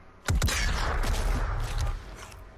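Heavy cannon weapon firing in a shooter video game: a sharp blast opens a dense roaring burst that holds for over a second and a half, then cuts off, with no talk.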